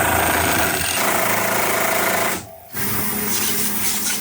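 A power tool buzzes loudly and continuously while the wheel comes off a 1961 Cadillac Coupe DeVille in a garage, cutting out briefly near the middle before resuming, close and with no talk.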